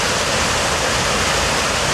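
Steady, close rush of water flowing in a small creek near a waterfall, broadband and unbroken for the whole stretch, with no voices.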